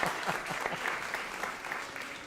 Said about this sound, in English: let's give her a round of applause for helping us out as well